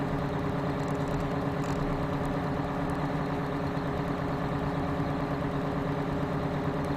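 A Big Bud 950 tractor, the 1200 horsepower model, runs steadily in a farming video game: a constant loud low engine drone with even vibration throughout and no pauses.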